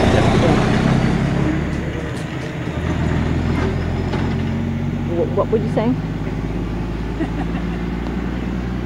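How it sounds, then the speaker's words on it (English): A truck rolls past near an old sugar cane mill site in Vieques, Puerto Rico, a steady loud engine rumble filling the whole stretch and easing slightly midway, with a person briefly speaking over it. "Oh wait, let's let the truck go by."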